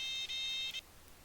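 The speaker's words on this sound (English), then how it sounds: "Go ahead and get that alarm off for me." Steady electronic alarm beeping in a small training airplane's cockpit, a continuous high tone broken by two brief gaps, then cutting off abruptly to quiet engine hum.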